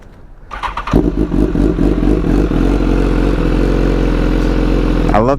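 BMW S1000 sport motorcycle with a titanium exhaust fires up after a short starter crank, then settles into a loud, close, steady idle with a throaty burble, ending in a brief rising blip.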